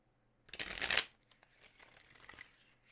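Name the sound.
riffle shuffling a deck of cards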